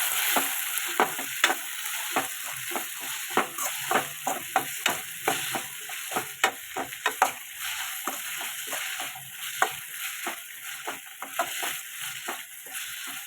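Two chopped tomatoes sizzle in a hot pan for tomato bath, with a steady frying hiss broken by repeated sharp scrapes and clicks of stirring throughout.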